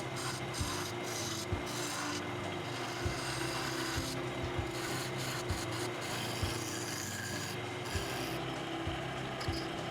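Abrasive rasping on a wooden Christmas ornament sphere as it is shaped and sanded, a continuous close scraping grind with regular brief pauses as the tool shifts.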